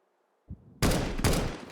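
Auto sniper rifle fire in a tournament video game match: after a short thud, two loud, heavy booming shots ring out close together, each with a long dense tail.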